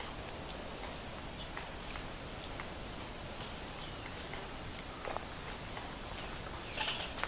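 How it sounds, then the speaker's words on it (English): A red squirrel's sharp, repeated chattering calls ring out at intervals through a quiet woodland trail setting in Ricketts Glen State Park, Pennsylvania, growing louder and closer near the end. "I think that might be a red squirrel. It's hollering at me"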